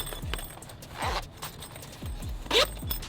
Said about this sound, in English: Let's move those zipper pulls.